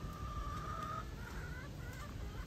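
Chickens cluck and call in a coop during a rainstorm, faint and somewhat distant over a steady wash of rain and low rumbling noise.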